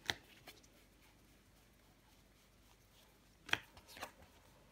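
Tarot cards handled and laid down on a table, a soft sharp snap at the start and another pair of crisp card slaps near the end, quiet with near silence between.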